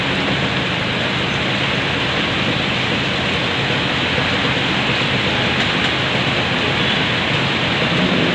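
Morning rain pours over Jakarta in a steady, loud, unbroken hiss of falling water with no voices, holding an even intensity throughout.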